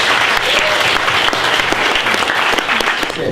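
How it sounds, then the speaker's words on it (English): Loud, dense applause from a crowd for a team at a youth hackathon, steady clapping that fills the whole stretch without a break. "Can we have a round of applause for them too?"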